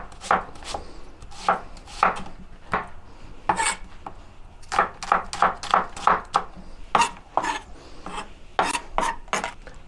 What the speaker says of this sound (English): So I would just slice the onions